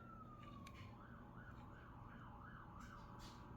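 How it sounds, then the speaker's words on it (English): A distant police siren wails in a steady rising-and-falling pattern, faint beneath a low background rumble. "And as you can hear in the background, you hear a police vehicle."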